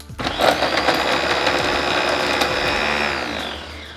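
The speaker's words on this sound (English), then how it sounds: "Because the ginger is the only thing that really needs the blender, I just like to put it in there by itself." Ginger chunks whirring alone in a kitchen blender for a few seconds, a steady loud motor drone that holds evenly before tapering off at the end.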